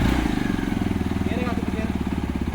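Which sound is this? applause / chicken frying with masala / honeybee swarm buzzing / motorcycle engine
motorcycle engine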